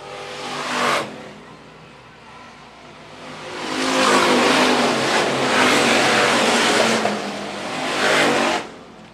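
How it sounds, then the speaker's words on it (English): IMC Hobby Stock race cars roar past in waves on the Phillips County Raceway dirt track, one brief pass early, then a long loud swell of engines and a final pass fading out. "Tanner Clough in complete control here for IMC Hobby Stocks."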